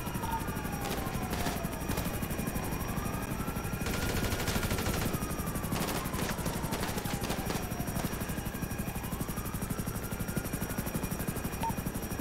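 Bursts of video-game gunfire crackle repeatedly over a loud, constant rotor-like engine drone that runs for the whole stretch, with no voices heard.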